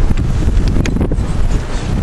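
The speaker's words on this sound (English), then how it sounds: "It's very windy, so be careful when you are walking." Strong wind on Table Mountain buffets the microphone in a loud, continuous low roar with gusty rumbles and no voices.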